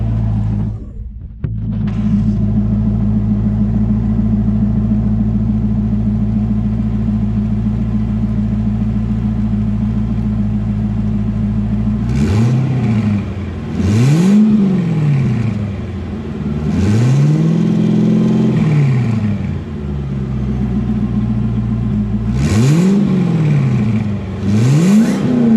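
A twin-turbo C5 Corvette engine idles steadily and loud, then is blipped in several sharp revs that climb and fall back, repeating in quick pairs near the end, with no talking.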